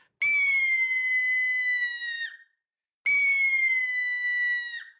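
A red-tailed hawk scream imitated on a hawk game call: two long, piercing, steady screams about a second apart, each ending in a brief drop in pitch, loud, close and without any voices.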